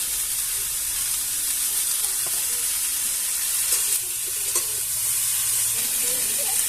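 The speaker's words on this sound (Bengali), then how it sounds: "আমি একটু ডাকা দিয়ে আস্তে আস্তে করে ফুলকপিটা বেজে নিচ্ছি" Cauliflower florets frying slowly in a covered pan for a dal and cauliflower vegetarian dish give a steady, even sizzle with soft hiss and occasional faint stirring clinks, continuous and close with no talking.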